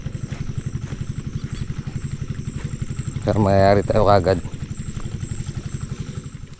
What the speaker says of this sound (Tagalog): paanda rin natin yung sa makina dito